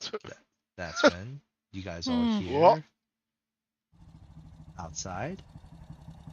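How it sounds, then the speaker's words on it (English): About four motorcycles pulling up outside a warehouse, their low engine rumble idling steadily in the background after a voice speaks, with more talk over the idle. "the sounds of about 4 motorcycles pulling up in front of this warehouse"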